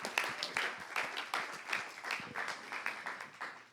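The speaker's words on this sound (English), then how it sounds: "Round of applause for Co." Brief round of audience applause for a speaker at a membership-week talk on financial sustainability, moderately distant with irregular clapping that rises and falls, faint murmurs mixed in.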